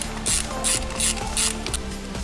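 A ratchet wrench with a 10mm socket backing out a timing chain guide bolt on a Ford Escape, several loud, close bursts of rapid clicking with short pauses between strokes.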